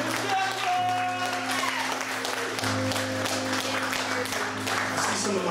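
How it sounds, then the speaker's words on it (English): A crowd at a live music pre-show gives applause and scattered clapping over a steady bass-heavy music bed, with faint voices in the background. "Give her a round of applause, please"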